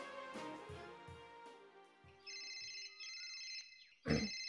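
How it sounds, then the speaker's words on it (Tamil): A telephone rings in an animated scene, giving a series of bright electronic ringtone bursts after some background music, with a louder thump near the end. "ஏகாபுரம் அந்த போன் எடுக்க"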